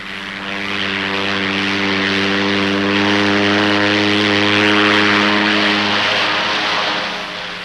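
Propeller engine of a charter plane drones loudly and steadily, its low harmonic hum holding for about six seconds before shifting and easing off at the end, with no voices.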